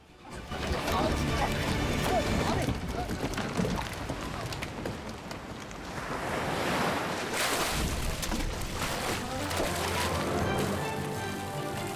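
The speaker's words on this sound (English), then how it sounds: "The boat cuts through the water" A boat cutting through sea water, with a continuous loud wash of spray and surf mixed with wind buffeting the microphone, swelling and easing slightly over the length.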